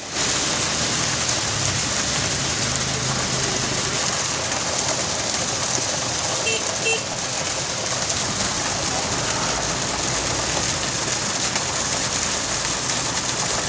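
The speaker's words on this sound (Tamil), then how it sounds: "சென்னையின் பல்வேறு பகுதிகளில் சுமார் 1 மணி நேரத்திற்கு மேலாக பலத்த காற்றுடன் கூடிய மழை பெய்து வருகிறது" Heavy rain driven by strong wind in Chennai, a dense, constant hiss of downpour on surfaces with no letup, while a pigeon coos faintly in the background.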